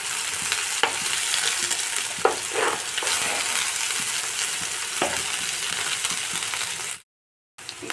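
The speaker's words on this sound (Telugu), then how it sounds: "కాస్త పచ్చివాసన పోయేంత వరకు మనం ఈ ఉల్లిపాయల పేస్ట్ని ఆయిల్లో మంచిగా ఫ్రై" Onion paste frying in oil for a chicken curry gives a dense, steady sizzle with occasional scraping and clinking of a spoon against the pan, then cuts to sudden silence near the end.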